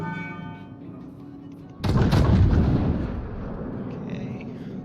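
A naval gun broadside in the World of Warships video game erupts suddenly after a quiet stretch, a loud booming blast that rumbles and slowly decays over a couple of seconds.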